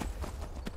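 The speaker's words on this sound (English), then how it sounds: "You're riding a horse." Horse hooves clip-clopping in Skyrim, a quick run of close, steady hoofbeats over a dull background rumble.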